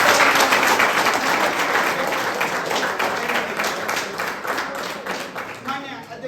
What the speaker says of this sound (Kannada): ಒಂದು ಜೋರಾದ ಚಪ್ಪಾಳೆ ಮುಖಾಂತರ